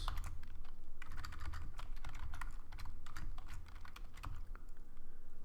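Quick, irregular clicking of keys on a computer keyboard as a folder name is typed, close and fairly quiet, with short pauses between bursts and no talking.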